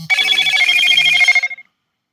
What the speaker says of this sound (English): my phone dinging there